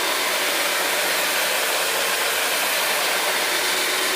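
A Brush Pro 17 counter-rotating brush carpet cleaning machine scrubs carpet with a loud, steady, hissing motor roar that stays constant and close throughout, with no talking.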